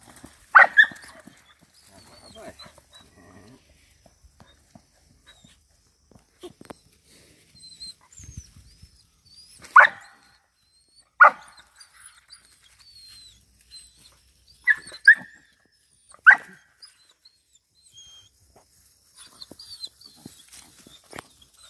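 A Belgian shepherd puppy almost five months old, at scent-search training outdoors, gives scattered sharp barks and yelps, mostly single or in pairs with long quiet gaps between, plus a few faint whimpers.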